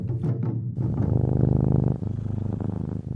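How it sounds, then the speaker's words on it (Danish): A cat purrs close up in a steady, low rumbling rhythm, with a brief higher sound at the start before the continuous purring settles in. "En kats spindelyd er mellem 25 til 150 Hz"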